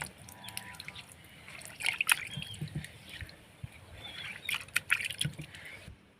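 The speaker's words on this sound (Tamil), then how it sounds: "இப்போது இந்த அம்மியை கழுவி இந்த தண்ணியை நம்ம எடுத்துக்கலாம்." Water from rinsing a stone grinding slab poured into a tamarind kuzhambu, close trickling and dribbling with bursts of splashing and drips across several seconds.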